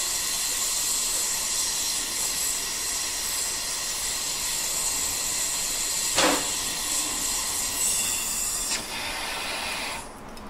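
A torch flame roars in a steady, loud hiss while melting platinum on a charcoal block. A brief thump sounds partway through, and the hiss shifts and drops slightly near the end.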